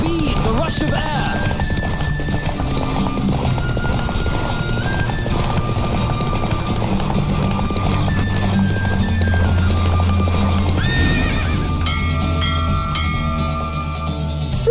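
A horse gallops at full speed during a race in the video game The Witcher 3: Wild Hunt, its rapid hoofbeats drumming under game music, with a whinny and voices briefly mixed in.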